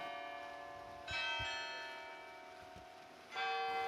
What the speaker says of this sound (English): He gave Grace Cathedral the singing tower, which is the North Tower, and 44 tuned bells.